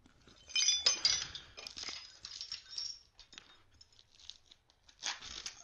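Broken glass from a smashed window clinks and crunches in scattered bursts, sharp and fairly close, with quieter gaps between the clatters.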